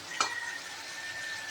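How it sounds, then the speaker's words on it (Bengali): Masala spice paste frying in oil in a pan, a soft close sizzle with one brief spoon scrape against the pan near the start, no talking. "মশলাটা ভাজা ভাজা হয়ে গেছে"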